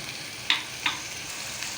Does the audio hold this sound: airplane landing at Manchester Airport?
no